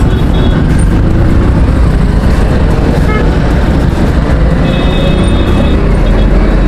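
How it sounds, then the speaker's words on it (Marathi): Dense road traffic rumbles close by, with engines droning steadily and several car horns tooting briefly over the noise. "भाई एवढे ट्रॅफिक कस काय भाई आज"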